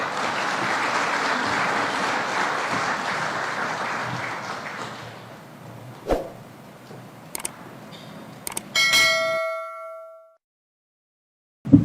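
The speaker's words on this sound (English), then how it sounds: "Another round of applause for the Prime Cabinet Secretary" An audience at a diplomatic briefing claps for a senior government official, steady applause that tapers off after several seconds, followed by a few sharp clanks and a ringing metallic ding.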